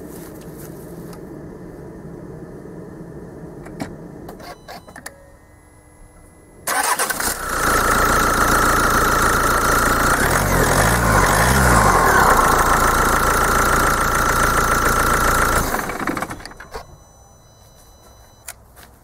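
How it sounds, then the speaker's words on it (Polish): A diesel engine with a Bosch CP high-pressure pump and a faulty valve cranks briefly, catches and runs at a loud, steady idle for about nine seconds before cutting off, with quiet workshop background before and after. "zaraz na nim zapalimy silnik."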